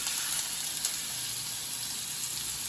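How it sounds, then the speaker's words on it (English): A steady, loud hiss of ribeye steak searing in olive oil in a hot cast iron skillet, continuous and close, with no voices over it. "Listen to that sizzle."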